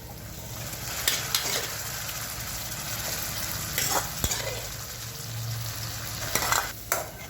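Cooked drumstick pods and dal are stirred into sizzling fried masala, with a steady frying hiss under repeated clacks and scrapes of a spoon against the pan, close up.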